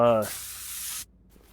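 Penetrating oil sprayed onto seized wheel bolts in the Car Mechanic Simulator 2021 video game, a single close, steady aerosol hiss lasting under a second, right after a brief spoken word.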